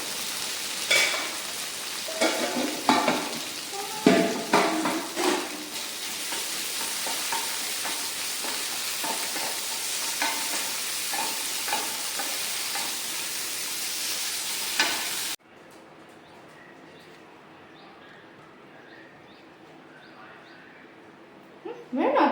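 Leftover beef and plantain curry heating in a pan gives a steady sizzle with scraping stirring clatter, then it cuts off abruptly, leaving a quieter room with faint background sounds.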